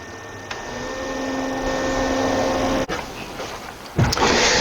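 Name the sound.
electric trolling motor running after being submerged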